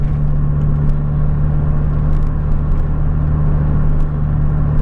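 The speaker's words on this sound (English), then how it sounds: "So you'll have not heard the exhaust on this," A classic Mini's exhaust gives a steady, close, loud low rumble with a constant drone, with no talking over it.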